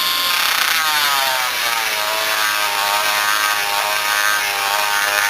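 A Foredom rotary tool grinds inside the exhaust port of a Yamaha Blaster two-stroke cylinder with a continuous high-pitched whine. The pitch wavers as the burr moves across the metal, close and loud, with no talking.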